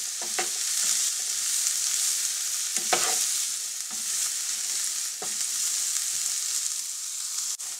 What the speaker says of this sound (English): Add your onions. Add your peppers. And saute them until tender.